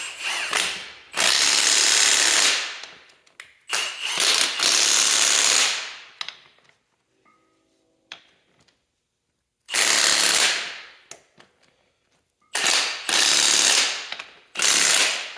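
A socket wrench works on the wheel of a John Deere 4410 compact tractor, giving four loud, harsh mechanical bursts of a second or two each, separated by near-silent pauses, close by with no talking.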